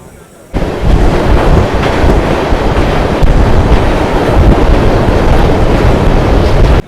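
The 12815 train from Puri to Kolkata rumbles along at speed with a loud, continuous roar of wheels and wind that starts abruptly after a quiet moment.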